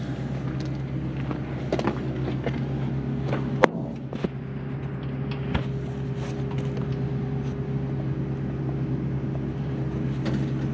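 A steady low diesel-style rumble from an M35A2 military water truck engine running at idle, close and continuous, with a couple of sharp clunks partway through and no talking.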